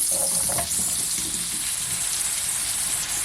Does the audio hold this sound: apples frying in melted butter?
yes